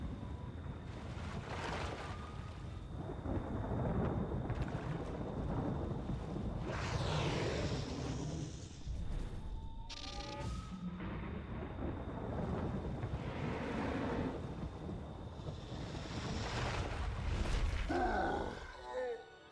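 Leviathan, a rank 8 storm spell in the game Wizard101, summons a purple serpent from fog, heard as sustained ominous rumbling and whooshing with low groaning swells and splashy bursts, loud and continuous, with no one speaking.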